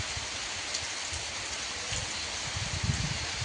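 Steady rain falling outdoors near a cattle shed, a soft even hiss with light patters and drips, faint and continuous without voices.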